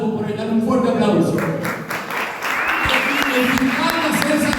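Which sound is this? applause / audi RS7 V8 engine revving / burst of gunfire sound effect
applause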